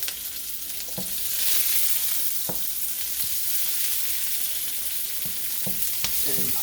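Onions frying in a hot pan for a curry shrimp stir-fry, a loud steady sizzle throughout with a few close clicks and scrapes of stirring, no voices.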